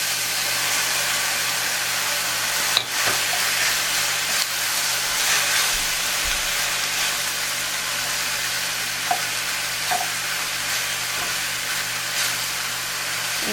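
Pasta and tuna heating in a pan for lemon pasta, a steady loud sizzle and hiss with a low hum underneath and a couple of brief clanks of the pan.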